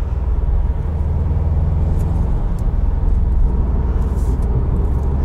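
A 2020 Subaru WRX STI Limited heard from inside the cabin, its engine a steady, loud low rumble with road noise as it pulls on boost, no voices.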